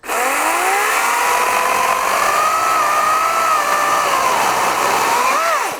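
Wild Badger 40-volt cordless chainsaw cutting through wood, a steady loud whine that holds its pitch without bogging and rises briefly at the end of the cut, continuous for about six seconds with no talking.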